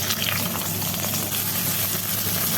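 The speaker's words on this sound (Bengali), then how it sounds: "সিমটাকে ভেজে নিব, হালকা তেল দিয়ে ভেজে নিব।" Flat beans fry in a little oil, giving a steady, close, even sizzle that holds without a break, with no one talking.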